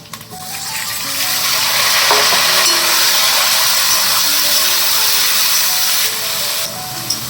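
Tomato and ginger frying in a pan, a steady loud sizzle that swells and holds as they hit the hot oil, continuing evenly with no talk.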